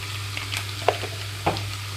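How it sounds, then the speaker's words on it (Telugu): Brinjal pieces with turmeric and salt fry uncovered in a pan over medium flame, giving a steady soft sizzle under a low hum, with two light stirring taps and no speech. "మూత లేకుండానే వేయించుకుంటున్నానండి"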